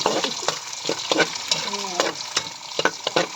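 Garlic sizzles in a hot pan while a utensil scrapes and stirs it in quick, irregular strokes, the frying close and clear with no talking.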